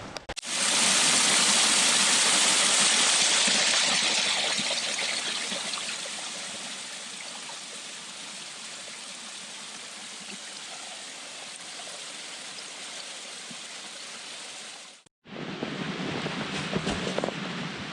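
A mountain stream at Cold Mountain, North Carolina rushes in a steady, broadband wash, loudest at first and then settling. It briefly cuts out near the end before resuming.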